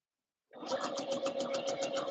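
A sewing machine hemming dress ruffles starts abruptly and runs at a steady fast stitching rhythm, close and clear, with a humming motor and rapid regular pulses.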